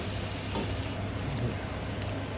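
Garlic sautéing in a pan as the base for a ginger beef stew, giving a constant, even sizzle with a low background hum and no distinct strokes or voices.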